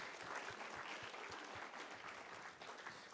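Audience applause at a Father's Day church service welcoming a man up to a panel, a steady dense roar of many hands clapping throughout, fairly distant and even in level.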